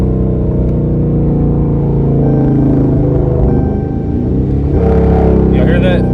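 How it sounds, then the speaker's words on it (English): A Dodge Charger RT fitted with a pedal control downshifts, its deep engine rumble rising into a sharp rev blip near the end, loud and close, with a voice talking over it. "Let's see if y'all can hear the downshift."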